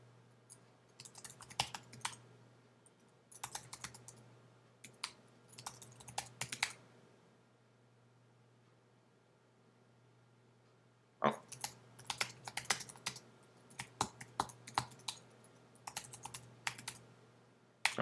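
Bursts of keystrokes on a computer keyboard as a sudo ARP delete command is typed in a terminal, several quick clattering runs separated by pauses, close and fairly quiet over a steady low hum, with no talking.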